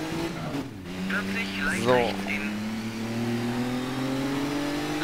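An engine revs in a rally car sliding on gravel in the video game Dirt 3, with a steady mid-pitched drone and a brief rise in pitch, heard under a voice.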